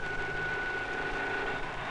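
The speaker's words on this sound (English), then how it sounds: "Engine running." A remotely controlled aircraft's engine runs at RAE Farnborough before takeoff, giving a steady, loud, broadband drone with a thin high whine held throughout.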